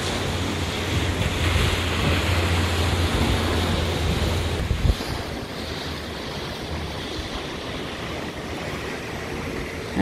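Ocean waves wash in a bay below a balcony as a broad, steady roar. Wind buffets the microphone, and one louder thump lands midway.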